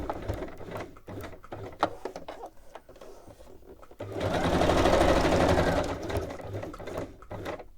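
A sewing machine stitches crafting fabric, starting with short clicking bursts and mechanical handling, then running in a steady, continuous whir for a few seconds before slowing to intermittent stitching again.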